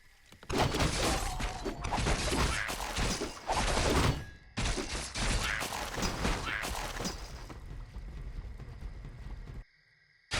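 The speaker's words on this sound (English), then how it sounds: "A player's forces are under attack." A Warcraft III battle with a player's forces under attack: a dense, loud wash of clashing, crashing combat noise that breaks off for a moment, resumes, then fades out near the end.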